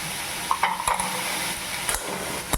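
Chicken with salt and turmeric fries in a pan under a steady hiss, while a utensil stirs it with several sharp scrapes and clinks against the metal.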